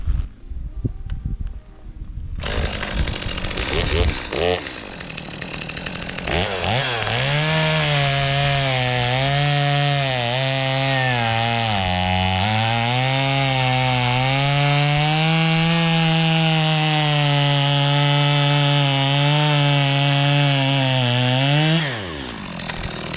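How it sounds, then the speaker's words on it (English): A chainsaw cuts through a tree stump, starting with a few pulls and rough sputters before settling into a loud, sustained engine whine under load for about fifteen seconds, then stopping abruptly. "So I think I'm going to get my chainsaw, cut this down here in half"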